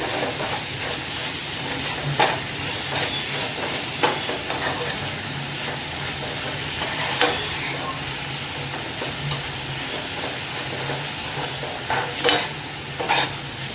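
Traditional Malvani drumstick leaf bhaji being stirred with salt in a pan, with a low steady sizzle broken by scattered sharp spoon knocks and scrapes against the metal, close by and without talk.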